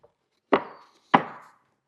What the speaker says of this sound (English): I'm going to hold everything together and flip this over.